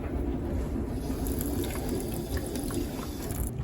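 Water poured into a paint mixture with a dollop of burnt umber, a soft continuous trickling and splashing, close and steady for a few seconds with no talk.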